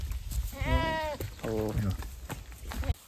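Goats bleat twice nearby, wavering cries one after another, with people's voices murmuring in the background.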